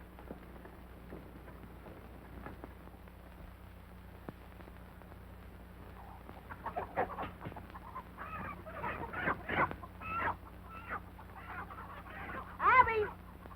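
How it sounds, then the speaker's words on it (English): Chickens cluck and squawk in rapid, irregular bursts under a faint background hum in an old western film, growing busier and louder toward the end. "Help me find that rooster."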